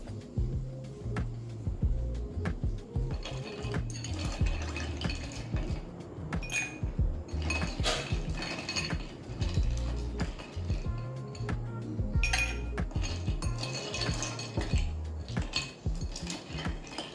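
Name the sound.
ice cubes poured into a glass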